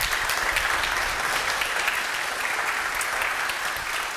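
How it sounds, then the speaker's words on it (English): A conference audience applauds a speaker being welcomed onto the stage, steady dense clapping filling the room at a loud, even level throughout. "Let's give him a round of applause."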